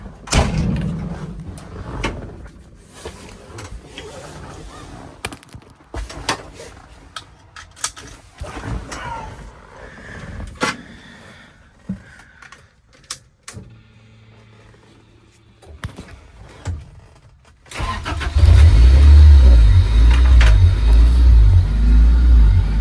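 A 1960s-style MG 1100 saloon: light clunks and a door shutting amid quiet handling noise, then the engine starts loud and close and runs steadily with a low rumble as the car pulls away.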